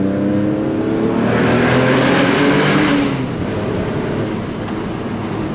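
Remapped GT 3.2 V6 car accelerating on the autobahn, a loud sustained engine drone with rising harmonic tones and heavy road and wind roar from inside the cabin, easing slightly toward the end.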